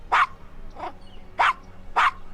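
A dog in the Gabriel Knight: Sins of the Fathers adventure game gives four sharp, close barks in quick succession, each short and bright, the third a little softer, with no talk over them.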